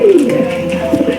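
A Lahori pigeon coos in a low, throaty rolling call, close and fairly loud, repeating in short pulses over about a second with faint background murmur.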